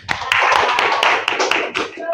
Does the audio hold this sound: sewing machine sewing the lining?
no